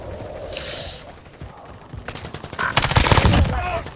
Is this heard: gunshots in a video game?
yes